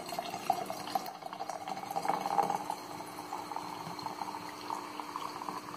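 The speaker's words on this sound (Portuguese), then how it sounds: "E aí é só preencher com a água tônica." Tonic water is poured into a stemmed glass of gin with fennel, ginger and candied Sicilian lemon, giving a soft, steady fizzing trickle that runs on quietly throughout.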